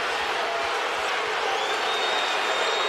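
Sellout basketball arena crowd booing during a Lakers–Cavaliers game, a steady loud wash of massed voices that holds without a break.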